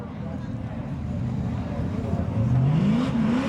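A Pontiac Firebird drag car warms its tires at a spectator drag night at Seekonk Speedway, its engine rising in pitch as revs build toward the end, heard from a distance beneath a commentator's voice.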